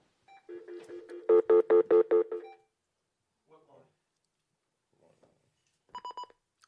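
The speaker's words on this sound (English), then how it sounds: "I think we have a caller calling in." Telephone dialing tones of an incoming call on a radio show, a quick run of beeping tones followed by a few faint, sparse beeps, with no talking over them.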